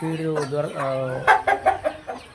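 A hen gives a drawn-out cackle, then a quick series of sharp clucks, close and fairly loud with little else around.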